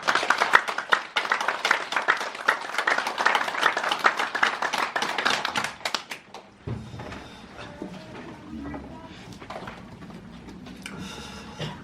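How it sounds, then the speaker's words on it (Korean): A church congregation claps together at a Sunday service, a dense burst of hand claps for about six seconds that then stops, leaving quieter room noise and small shuffles. "우리 하나님께 영광의 박수 올립니다."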